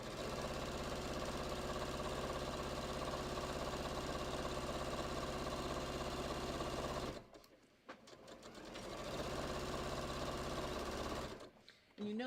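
A sewing machine runs in long, steady bursts while stitching a patio cushion cover, its fast mechanical hum loud and continuous, then briefly stopping and restarting before halting again near the end.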